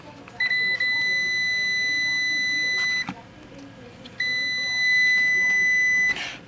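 Continuity beeps from a multimeter testing the antenna wire of a 1942 Zenith 6G601M radio under repair: two steady, loud electronic tones, each lasting about three seconds, separated by a short gap, with faint workshop noise underneath.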